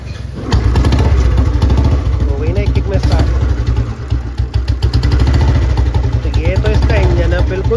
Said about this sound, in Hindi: इसका जो ये साइलेंसर है ये वायलेंट हो रहा है, बहुत ही ज़्यादा साउंड कर रहा है।